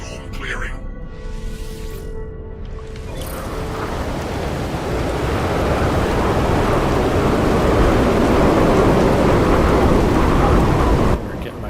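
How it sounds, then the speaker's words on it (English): Thunder and heavy rain of a corrosive storm in the game No Man's Sky: a low rumble swells after a few seconds into a loud, steady wash of rain and thunder that holds until it cuts off near the end. "Corrosive storms? Oh boy. Weather update."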